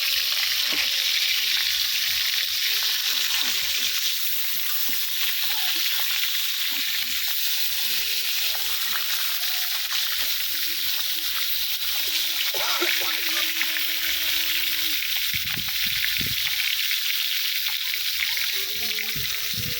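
Rohu fish pieces fry in a pan of hot oil, a dense continuous sizzle and hiss that stays loud for the whole stretch, with a few brief muffled sounds and a faint voice partway through.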